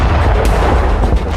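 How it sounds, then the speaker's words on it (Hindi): Cluster bomb blasts from Ukraine war footage near Avdiivka strike Russian tanks, a dense run of heavy booming explosions rolling one after another, loud and close, with no talking. "धरती पर एक के बाद एक कई धमाके हुए।"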